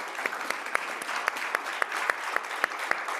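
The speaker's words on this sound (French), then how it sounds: "J'aimerais bien qu'on applaudisse René, s'il vous plaît." Audience applause for René at the close of a live coaching session, steady light clapping marked by a few sharper, regularly spaced claps that stand out near the microphone.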